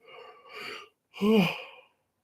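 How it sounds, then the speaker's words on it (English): Two drawn-out yawns, the first softer and breathy, the second louder with a voiced, groaning tone, each trailing off into silence. "I don't know why I start yawning so much"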